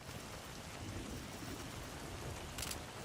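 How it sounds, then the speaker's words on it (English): Rain falls as a steady, dense hiss with a faint brief brighter burst near the end, soft and continuous with no talking. "I'll just wait for the rain to go by."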